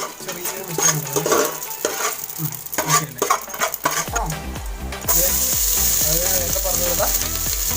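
A spice mix for biryani frying in hot ghee, with a close, steady sizzle and crackle, stirring scrapes and clinks from a spoon against the pan, growing to a louder continuous hiss.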